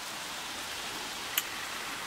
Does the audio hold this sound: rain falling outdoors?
yes